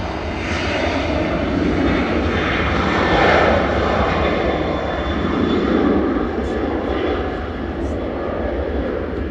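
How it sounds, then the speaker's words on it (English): A Ryanair jet airliner departs Manchester Airport bound for Cork, its engines giving a broad, steady roar that swells around the middle and then holds, heard from a distance alongside talk. "Ryanair departing super short, heading back to Cork"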